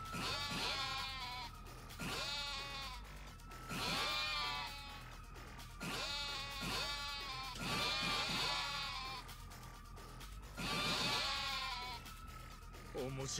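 Goats bleat repeatedly in loud, wavering cries inside a cinema in Yakuza: Like a Dragon, several calls overlapping in bursts every couple of seconds over a steady background hum.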